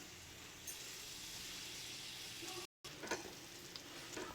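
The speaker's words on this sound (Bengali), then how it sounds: "এদিকে আমাদের আনারস কিন্তু ফোটা শুরু করে দিয়েছে।" Pineapple chutney bubbles in a pan, giving a continuous close hiss and sizzle with a brief dropout partway through and a few small pops afterward.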